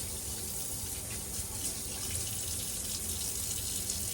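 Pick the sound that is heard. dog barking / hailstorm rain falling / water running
water running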